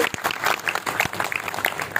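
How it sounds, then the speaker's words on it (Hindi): Audience applause at a commemorative stage event, welcoming a guest onto the stage; sustained, dense clapping from a crowd throughout, fairly close and steady. "तालियों से स्वागत कर लीजिए।"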